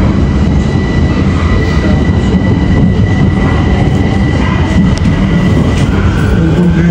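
Steady rumbling roar of a metro train in motion in Bucharest, Romania, with faint rhythmic clatter of wheels on the rails throughout.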